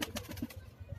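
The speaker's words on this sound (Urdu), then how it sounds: "یہ میرے سبز پتی کے کبوتر ہیں" Breeding pigeons coo in soft, low rounded pulses, several short close calls in quick succession with faint flutter around them.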